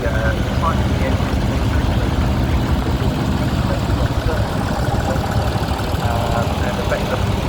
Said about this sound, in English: This is Ford Major, the Ford Major.